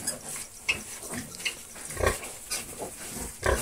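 A sow with eight piglets grunts rhythmically in a farm pen while the piglets suckle, with repeated close, soft grunts and snuffles over steady background noise.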